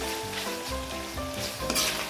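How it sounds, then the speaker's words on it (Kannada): Chicken liver and gundakayee fry in hot oil with a close, continuous crackling sizzle, punctuated by scraping and stirring noises and a brief louder clatter near the end. "ಈ ಥರ ಚೆನ್ನಾಗಿ ಫ್ರೈ ಮಾಡ್ಕೊಳ್ಳಿ"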